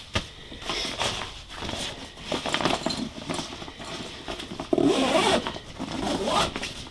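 A zipper on an Eagle Creek Tandem Warrior travel bag is drawn closed in several quick, scratchy pulls, close up and fairly loud, with a few rustles of fabric and handling between strokes.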